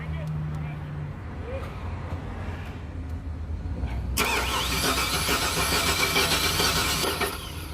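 A Chevy Silverado engine cranks over without firing, a steady rhythmic churn close by that turns louder and harsher partway through, heard without talk.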